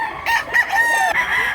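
A white rooster crows loudly and close by, one drawn-out call with rising and falling harmonic tones, heard alone over quiet background.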